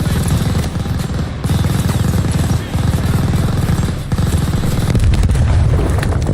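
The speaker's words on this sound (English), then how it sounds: "That was a lucky grenade, I'll be honest." Grenade blast and heavy gunfire in Call of Duty Vanguard, a dense, continuous barrage of loud booms and rapid shots filling the whole stretch, with a sharp burst near the end.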